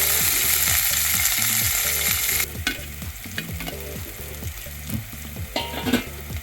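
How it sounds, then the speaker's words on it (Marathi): Green chillies roast in a hot pan with a loud, hissing sizzle at first, then quieter frying under repeated scraping and stirring clatter. "मिरच्या छान अशा भाजून घ्यायच्या थोडासा मिरचीला चटका लागेपर्यंत भाजायच्या आहेत मिरच्या"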